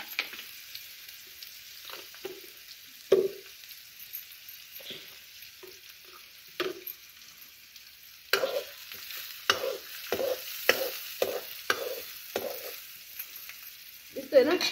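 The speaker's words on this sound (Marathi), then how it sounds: "हा कांदा परतल्याशी कसं हा हा कांदा परतीते" Chopped onion fries with masala in a pan in a village kitchen, giving a faint, steady sizzle broken by a series of sharp scrapes and stirring clatters that grow busier toward the end.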